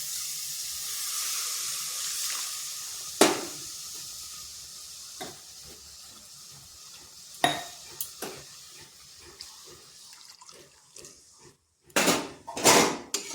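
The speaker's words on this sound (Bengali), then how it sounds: "এরপর এখানে দিয়ে দিচ্ছি 2 বাটি লিকুইড দুধ।" Two bowls of liquid milk poured onto cooked-down grated carrots in a pan, a soft hiss and pouring wash followed by sharp clinks of bowls and utensils against the pan, bursts of clatter toward the end.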